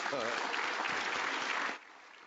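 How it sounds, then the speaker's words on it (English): A crowd at a Pro Football Hall of Fame event applauds volunteers, broad clapping that holds steady and then cuts off sharply near the end, leaving quiet room tone. "Let's give a round of applause to our volunteers"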